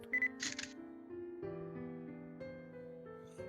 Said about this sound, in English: I pressed the shutter button and snapped a photo.